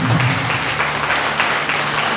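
A worship congregation clapping together in praise, a dense, steady wash of hands filling the room at fairly loud level, with a low hum or voice faintly underneath.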